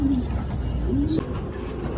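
Trained pigeons near a loft trap door give short low coos, two brief calls over a steady outdoor background hum with faint traffic.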